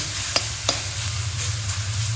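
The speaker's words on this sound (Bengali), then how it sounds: "তেল গরম হয়ে গেছে শুকনো লঙ্কাগুলোকে ভেজে নিচ্ছি" Dried red chillies fry in hot oil in a home kitchen pan, giving a steady, close hiss of sizzling with two brief scraping clicks from a utensil early on; no one speaks.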